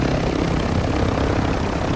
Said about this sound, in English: someone's shooting at the helicopter over there